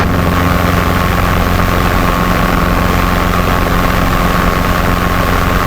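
Robinson R22 helicopter at takeoff on an airfield, with the engine and rotor roaring steadily and loudly, close and continuous, no voices heard.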